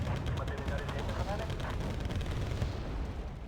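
Artillery fire in a tank battle video game, a dense, continuous rumble of booming shots and blasts at steady loudness throughout.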